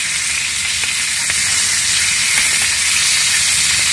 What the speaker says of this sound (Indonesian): mulai goreng ikan nih.